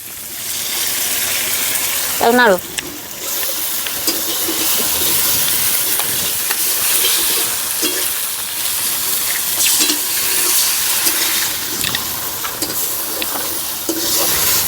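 Eggs cracked into a pan of reddened, fried onions sizzle and crackle steadily, with stirring scrapes and a brief clink near the start, for a tomato dish.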